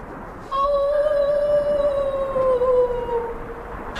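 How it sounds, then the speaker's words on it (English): A sustained, slightly wavering moaning whale call with bright harmonics, holding for about three seconds before trailing off, heard alone over a low wash. "Now we hear a stringent denial from the adolescent whale."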